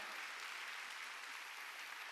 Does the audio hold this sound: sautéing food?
no